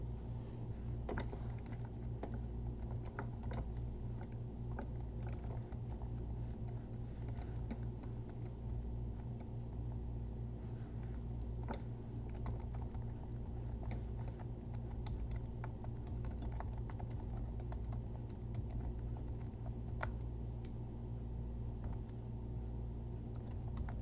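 Text being typed on a computer keyboard for a word-processing project, a steady run of faint, quick key clicks over a low constant rumble, with no talking.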